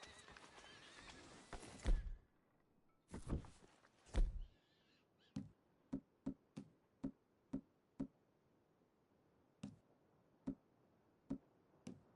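A horse in Red Dead Redemption whinnies loudly a few times, followed by a steady series of distinct hoof clops and thuds, fairly close.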